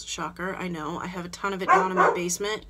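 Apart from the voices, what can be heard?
dog barking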